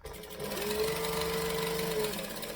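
A sewing machine runs at a steady pace, stitching along the bottom of a bag lining, its motor whirring with a continuous rapid mechanical rattle, close and without talk.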